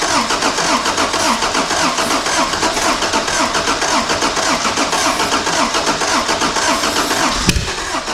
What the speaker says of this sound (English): As soon as I let off the ignition, it died.